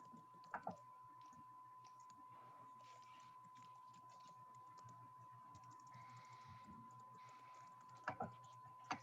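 Quiet, scattered keystrokes tap on a computer keyboard at a slow, uneven pace, with a faint steady tone humming in the background.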